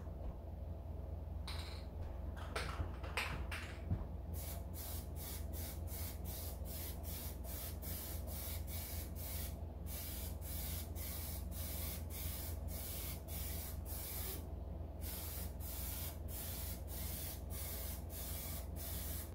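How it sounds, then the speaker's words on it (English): Plasti-dip clear coating sprayed from an aerosol can onto glass: a long run of quiet hissing bursts, several short sprays and then a quick series of rapid pulses, close to the can, with no talk. "We're going to use the Plasti-dip. So take it up, go over here and hit it again."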